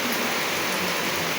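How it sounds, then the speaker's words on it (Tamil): Steady rain falls at night over a village home in Tiruvallur district, a dense, even hiss of drops on surfaces that holds constant and close, with no voices. "8:30 மணிக்கு மழை பெய்யுதுங்க"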